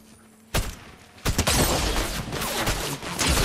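Gunfire in an online shooter video game: sharp bursts begin abruptly, then a dense, sustained rattle of loud shots continues close and steady to the end, with no talk over it.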